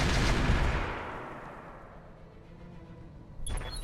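Mech weapons all firing at once in the game Roguetech, a loud booming volley that rolls and decays over a few seconds, then a sharp metallic crack near the end, with no talk.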